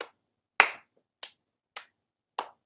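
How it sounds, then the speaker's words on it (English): Hands clapping loosely during a breathwork exercise: five sharp, separate claps at an uneven pace, close and clear, with silence between them. "And then clapping"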